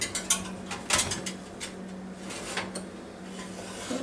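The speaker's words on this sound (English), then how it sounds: "going to slide this beautiful bird in there." A whole chicken is slid into a Ninja Foodi XL Pro air oven, giving a series of close metallic scrapes, rattles and light clanks of the rack and pan over a steady low hum.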